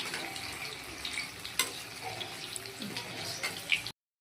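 Palm fruit fritters fry in oil in a pan, a steady soft bubbling sizzle with occasional light stirring taps, close and continuous until it cuts off near the end.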